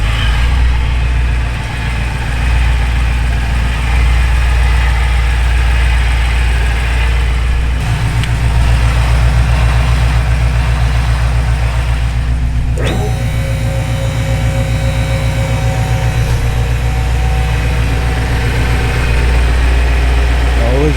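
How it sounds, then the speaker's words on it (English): BMW X5M engine revving in a garage after a repair, a loud, continuous engine roar with rises in revs partway through, heard up close with occasional talk over it. "Rev it up, bro."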